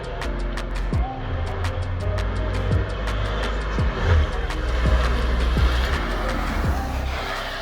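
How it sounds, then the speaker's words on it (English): An old car with a three-on-the-tree column shifter is driven, its engine a steady loud drone with repeated sharp clicks and knocks over the top throughout, recorded close inside the vehicle. "this would be my first time driving a 3 on the tree"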